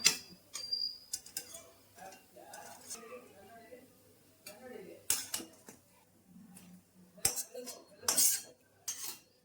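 Scattered clinks and scrapes of utensils against a plate as fried bottle gourd fritters are lifted out and set down, with a few light metallic taps.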